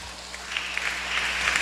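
Church congregation clapping together, a steady wash of applause rising slightly in the second half, with no talking over it.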